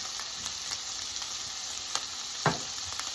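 Fish salciado sautés in a pan, a constant close hiss of frying with a few faint stirring taps and one brief louder scrape near the end.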